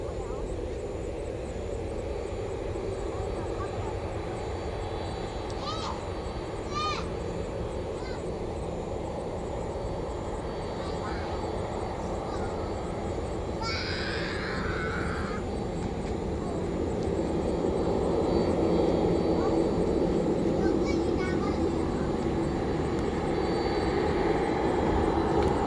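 A JAL Boeing 767-300ER airliner taxis toward the runway at Takamatsu Airport, a steady distant jet-engine rumble and whine that grows a little louder, with crows cawing and faint voices now and then.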